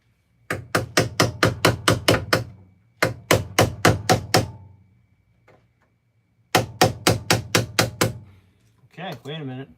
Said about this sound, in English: I'm going to throw this in a vise and tap on it a little bit so I can get it to come out.